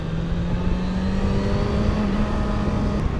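A Yamaha FZ6 motorcycle with a 600 cc engine idles and revs steadily close by, a loud continuous drone with a slight rise in pitch and no talk over it.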